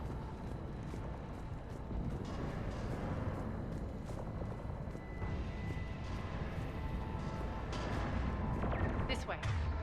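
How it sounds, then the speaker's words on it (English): Heavy cannon fire booms and rumbles continuously on the Omega mission of the video game Mass Effect 3, a dense, loud barrage with voices talking over it. "Those cannons have to be stopped."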